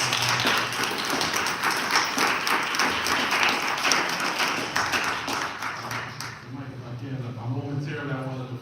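A round of applause from the audience at a village trustees meeting, steady and dense for about six seconds, then fading as a speaker begins talking over the last few claps.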